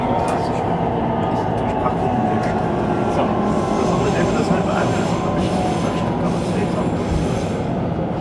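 An S-Bahn train rumbles loudly and continuously through Leipzig's City Tunnel, its wheels squealing in a high, sustained screech over the roar, with voices faintly audible beneath.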